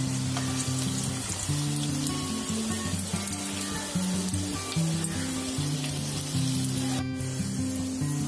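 Bottle gourd (lauki) koftas shallow frying in oil over a low flame give a steady, continuous sizzle with no talk, running the whole time beneath a tonal backing that shifts in pitch.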